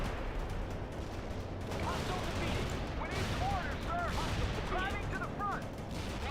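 Artillery fire support in the video game World in Conflict rumbles as a dense, continuous barrage of distant booms and crackling impacts, with whistling shells streaking through at a steady, moderate level.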